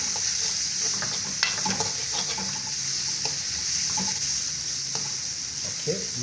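Carrot soup ingredients that are starting to stick to the pan are stirred, a constant hissing sizzle broken by scattered scrapes and taps of the spoon, close and fairly steady throughout.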